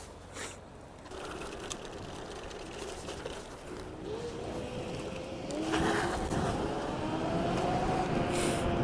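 An Ultron T10 electric scooter accelerates uphill to 60 km/h: a motor hum under steady road and wind noise climbs gradually in pitch, with a faint electric whine rising near the end.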